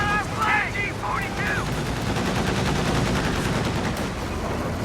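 Gunfire in a competitive video game match against a sniper, a rapid, continuous clatter of shots running the whole time under a steady dense background, with brief chirping game tones near the start.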